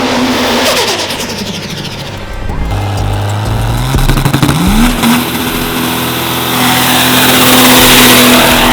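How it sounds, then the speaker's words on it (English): A diesel pro mod race car roars through a burnout, its loud engine droning steadily, rising in pitch midway and holding a high, sustained rev to the end, with no talk. "That car likes to do that for whatever reason, the burnout."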